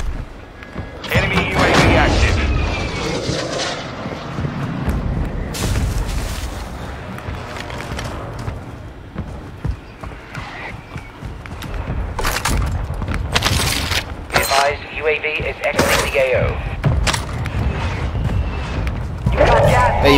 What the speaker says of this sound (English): Our mortar strike is inbound.